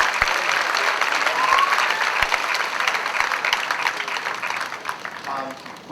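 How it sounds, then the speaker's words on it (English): A jazz orchestra audience aboard the MSC Lirica cruise ship breaks into sustained applause for an alto saxophonist, a dense wash of clapping with scattered cheers and a voice speaking over it. "By the way, how about a round of applause for Richie Cole, ladies and gentlemen?"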